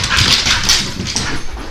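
A dog whimpers up close, a series of high, thin whines and yips rising and falling over a couple of seconds, loud and alone without talk.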